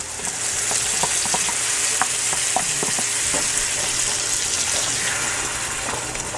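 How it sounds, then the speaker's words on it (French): Tomato sauce poured onto browned, sizzling meat in a pan for a meat sauce, giving a steady loud frying hiss with scattered stirring clicks and light watery gushes, no talk. "on va comme déglacer avec la sauce tomate. Maintenant que tout a bien grillé, on envoie la sauce."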